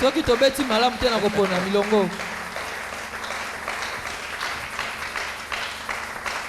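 A church congregation at a Sunday service breaks into applause and acclamation; a loud voice calls out at first, then sustained clapping and crowd noise fill the room.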